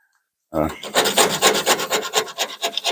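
Coarse 36-grit sandpaper rasps over body filler on a car's rear quarter panel. After a moment of silence it bursts into loud, close, rhythmic back-and-forth strokes that continue steadily.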